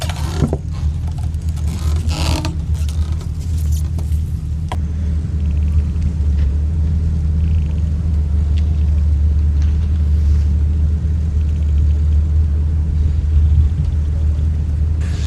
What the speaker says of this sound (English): I do like firing these things up in sports mode, they do sound good. 300 horsepower V8